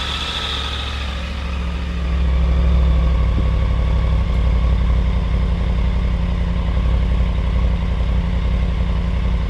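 A Triumph Tiger motorcycle engine idles close up with a steady, low, throbbing rumble that grows slightly louder after a couple of seconds and then holds even.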